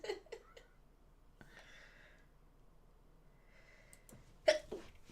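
A sneeze bursts out near the end, a sharp, fairly loud blast with a short tail, after quiet breaths and small vocal sounds earlier.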